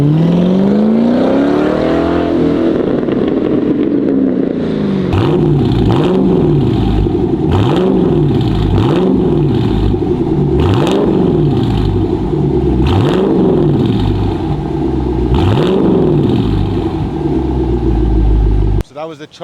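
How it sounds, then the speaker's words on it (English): A Dodge Charger fitted with a custom H-pipe midsection and factory rear mufflers revs hard and close. A long climbing sweep gives way to a steady series of repeated throttle blips, with a deep rumbling exhaust throughout. "That was the Charger. That one has a custom H-pipe midsection. It does have factory mufflers in the rear"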